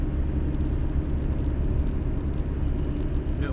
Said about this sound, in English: Got a nice whine from the back axle